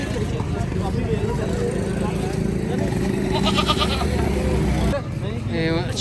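A goat bleats at a livestock market amid constant crowd chatter and traffic hum, its wavering cry rising briefly over the din with a second short bleat afterward.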